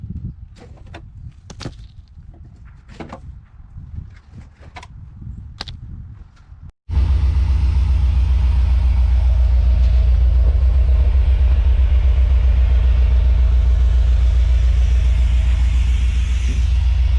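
A rusty HD dump truck's engine with a muffler, fitted with homemade hydraulics, starts abruptly after faint knocks and then idles loud and steady with a deep continuous rumble while warming up.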